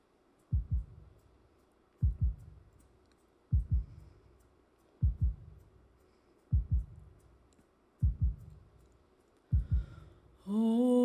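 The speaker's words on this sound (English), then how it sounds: "I've inserted a heartbeat into this" A heartbeat sound inserted before a sung rendition of Danny Boy: seven steady, deep double thumps about every second and a half, clear and alone, before a voice begins to sing at the end.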